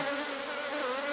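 Honey bees buzzing inside a hive built in a drum, a dense continuous droning hum, close and steady for a short moment with no voices.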